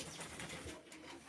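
Flying-breed pigeons on Malik Amir's rooftop loft give a brief burst of soft cooing and wing movement, close by and fairly steady throughout.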